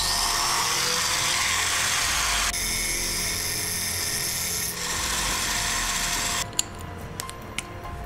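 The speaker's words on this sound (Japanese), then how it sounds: "それではね削ってこのねかしめを削って分解してみましょう" A rotary grinder steadily cuts away the crimped seam of a fuel pump housing from a long-stored fuel-injected vehicle, a continuous high whine that changes pitch slightly partway through, then gives way to a few sharp clicks and taps near the end.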